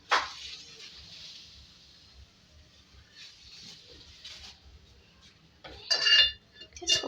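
Semolina roasting in ghee in a saucepan makes a faint, steady hissing scrape as it is stirred, with a few clear metal clinks of the spoon against the pan near the end.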